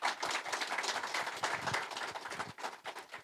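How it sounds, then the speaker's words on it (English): An audience at a real estate investing meetup gives a round of applause, a steady, fairly faint wash of many hands clapping with no talk over it. "you guys give them one more big round of applause just for doing this"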